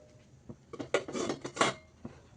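Metal pots clatter and clink close by as puttu made with banana flower is set into an idli steamer on the stove, a short cluster of knocks and scrapes, no talking.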